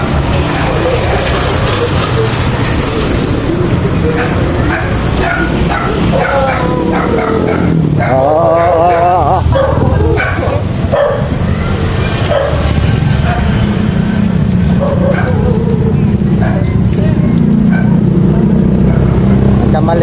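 A dog barks at night during a walk, several barks in a burst mixed with traffic noise, with people talking loudly throughout.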